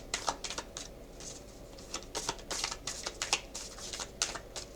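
Moon Magic oracle cards shuffled by hand, a run of quick soft riffling clicks and taps in uneven bursts, close and fairly quiet, with no voices.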